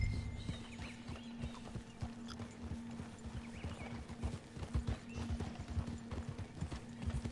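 Horse hooves clip-clop steadily in Red Dead Redemption 2, a continuous close walking rhythm with occasional heavier steps and no talk.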